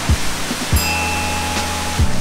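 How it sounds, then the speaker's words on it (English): Waterfall in Bohol, Philippines, with a water playground and rope swing: a steady, dense rush of falling water fills the scene throughout, broken by a few dull low thumps, with no talk. "This waterfall is a playground."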